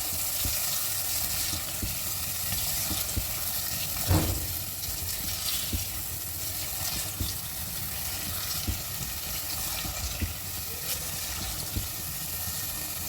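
Chopped potatoes for aloo bhujia fry in a pan with a continuous, moderately quiet sizzle, broken by occasional stirring scrapes and one louder clatter near the middle.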